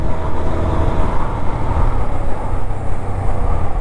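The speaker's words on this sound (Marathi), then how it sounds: "पण त्याच्या आधी हा ट्रक आला" A truck passes on a road near Alibag, a loud, steady rumble of engine and traffic noise holding throughout with no talk.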